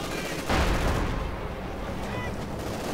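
Machine gun bunker firing in a WWII real-time strategy game, holding off Soviet conscript infantry; a dense, continuous burst of gunfire and battle noise sits at moderate distance, peaking early and rumbling on steadily throughout.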